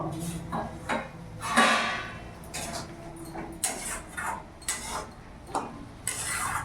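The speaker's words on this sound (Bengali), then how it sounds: "এবার ঢাকাটা খুলে দেখবো" A lid comes off a cooking pot of fenugreek greens fried with potato and lentil dumplings, giving a series of close metallic clinks, a sliding scrape and a few clatters over a low background hum.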